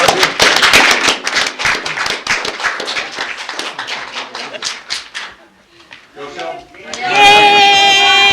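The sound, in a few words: clapping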